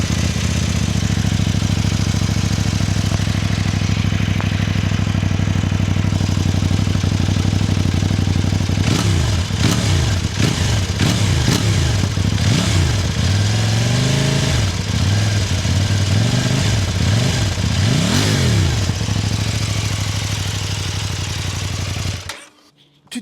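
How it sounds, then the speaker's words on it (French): Kove 800X GT motorcycle engine idling steadily up close, then blipped through a series of sharp throttle revs that rise and fall repeatedly before cutting off at the end. "Mais avant de partir, on va écouter le bruit du moteur."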